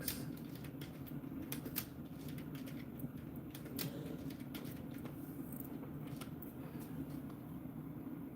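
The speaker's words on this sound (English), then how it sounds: "I'm just typing as quickly as possible here." Quick, irregular key clicks from someone typing fast on a computer keyboard, close to the microphone over a steady room hum, with no one talking.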